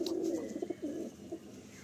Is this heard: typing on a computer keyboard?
no